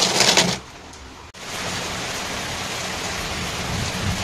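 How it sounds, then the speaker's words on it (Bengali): Dense, heavy rain pours down in a continuous roaring hiss, loud and close, with a brief louder burst at the start. "তুমি এই বৃষ্টির মধ্যে, কত বৃষ্টি হচ্ছে দেখছো"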